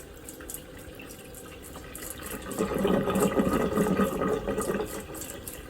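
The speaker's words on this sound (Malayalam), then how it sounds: "ഇനി കുറച്ചു നേരം നമുക്ക് പൈപ്പ് തുറന്നിട്ടേക്കാം" Water runs from an opened tap into a kitchen sink whose blocked drain has just been cleared. After a quiet start, a steady rushing and splashing swells up partway through and holds close by.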